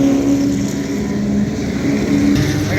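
Ligier LMP3 race car engine droning steadily nearby on track at Road Atlanta during a historic racing event, a loud sustained tone with slight rises in pitch and no voices.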